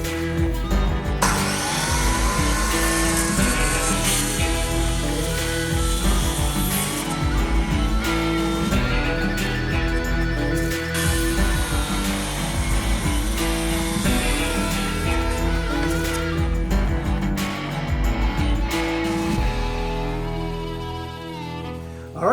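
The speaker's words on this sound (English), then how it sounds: "let's grab our speed square and our circular saw and cut these joists out of the way" A circular saw cutting through wooden floor joists to clear a beam pocket in a doorway, a loud, sustained close-up whine and roar lasting about twenty seconds with slight shifts in pitch as the blade bites through the wood.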